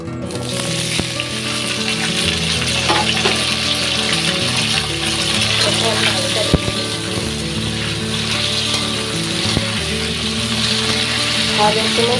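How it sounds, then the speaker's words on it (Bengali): Potatoes fry in a hot kadai, a loud, constant sizzle that runs the whole time, broken by a few sharp clicks and knocks from stirring. "প্রথমে আমি আলুটা লাল লাল করে ভেজে নেব।"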